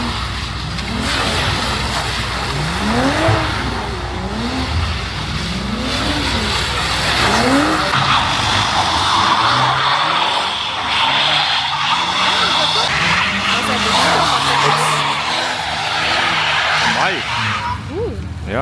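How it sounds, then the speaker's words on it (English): A car drifts at an illegal car meeting in Belgium with loud, sustained tire squeal and skidding that rises and falls in repeated sweeping arcs over revving engine noise, with crowd voices faintly underneath. "It's a woman driver, first time drifting."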